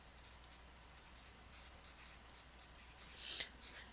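A pen or marker writes out a math expression in soft scratchy strokes, short bursts of quiet scribbling close by, with one slightly louder stroke near the end.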